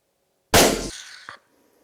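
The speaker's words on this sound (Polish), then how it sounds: "zdecydowałem się jednak oddać strzał do rogacza" A single loud rifle shot fired at a roe deer buck during a hunt: a sharp, close crack that decays into a trailing echo, with no talking.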